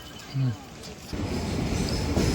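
The Venkatadri Express passenger train pulls into Kadapa, with a brief high squeal from the wheels followed by a loud, steady rumble of rolling carriages.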